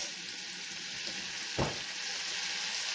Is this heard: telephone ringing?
no